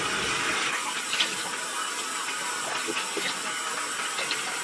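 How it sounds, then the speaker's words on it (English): Running water splashes steadily while someone washes their face with slightly warm water, a continuous close hiss that holds an even level throughout. "let's finish getting ready and washing my face"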